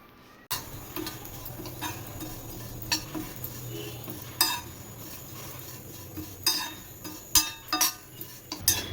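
Vermicelli roasted in a pan with raisins and cashews, stirred with a spoon: close clinks and scrapes against metal at an uneven rhythm over a soft sizzle.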